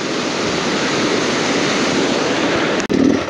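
A deep river rushing steadily past, a dense continuous roar of flowing water with a brief dropout and bump near the end, no one speaking.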